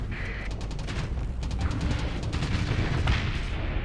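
Missile explosion and weapons fire during a Starsector space battle: a rapid series of sharp cracking impacts and bursts over a steady rumbling bed, fairly loud and continuous, with no voice on top.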